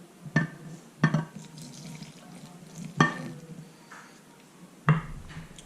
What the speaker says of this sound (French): Et vous allez ajouter votre lait bouillant. Et vous remuez en même temps.